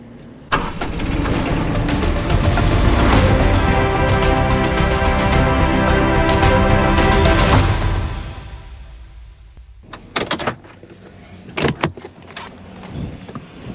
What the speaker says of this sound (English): That is Granny's car.